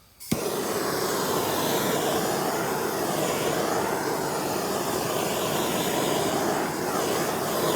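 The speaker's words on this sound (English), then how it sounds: "I'm gonna come in here and just heat the film" A heat gun runs on the film of a 2018+ GMC Terrain taillight being tinted, switching on with a click and then blowing a steady, loud, close whooshing roar that holds evenly to the end.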